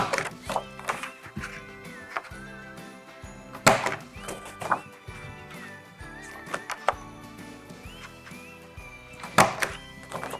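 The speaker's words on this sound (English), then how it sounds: "then we punch those on all 4 sides" A handheld notch punch cutting the sides of a paper Christmas envelope, several sharp, close clunks spaced a few seconds apart over soft background music.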